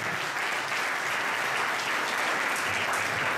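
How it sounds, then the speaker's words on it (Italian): A room full of people at an official memorial award ceremony applauds, a dense, steady burst of clapping that stays loud for several seconds, with no one speaking over it. "Un applauso a Massimo Minasi"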